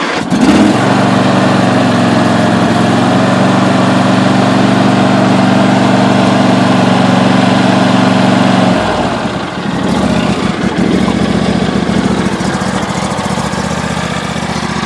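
A Briggs & Stratton engine on an LA150 riding mower starts up and runs steadily at half throttle, a loud, close, continuous drone with a brief dip partway through.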